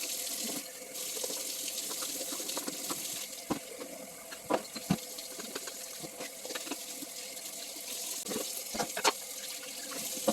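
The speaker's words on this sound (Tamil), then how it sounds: "ஸோ அதனால் கையிலே கழுவிடலான்னு கழுவிட்டுருக்கேன்." Old oil bottles are hand-washed at a kitchen sink under a running tap, a steady gentle stream of water with scattered clinks and knocks of the bottles, fairly quiet and close.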